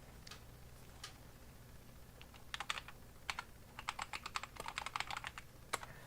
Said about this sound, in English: At least the key typing sound is decent.